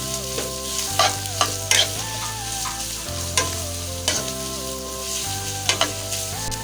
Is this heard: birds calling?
no